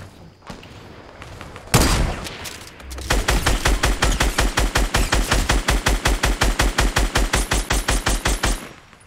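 Gunfire in the video game Fortnite: a single loud shot, then a long, steady burst of rapid automatic fire, evenly spaced and close.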